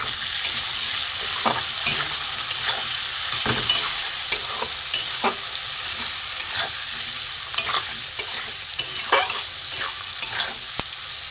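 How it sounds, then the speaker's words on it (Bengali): Masala for a small hilsa curry with brinjal, potato and mustard paste is stirred in a hot pan, a steady broad sizzle broken by repeated sharp scraping clicks of the spoon against the metal, close and clear with no voices. "নুন দিয়ে দেবো, একটু নাড়বো ভালো করে।"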